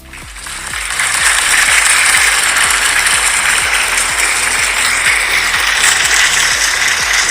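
Rhythmic audience hand claps in unison at an astrology talk, a steady loud patter of many hands that carries on for several seconds without speech.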